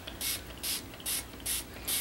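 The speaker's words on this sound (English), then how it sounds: "So if I spray this one," Five short, sharp hisses from a handheld spray bottle misting water onto earthenware clay, terracotta and gray-green pieces, some coated in beeswax; the bursts come evenly spaced, close and fairly loud.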